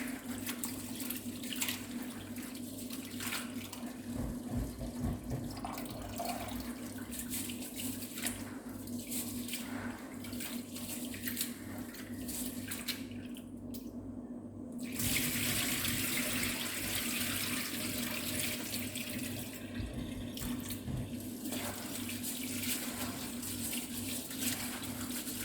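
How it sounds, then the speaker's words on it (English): Rice being washed under a running tap in a kitchen sink for Jamaican rice and peas, a steady faint stream of water with shifting splashes as the grains are rinsed, mostly alone. "I wash off my rice"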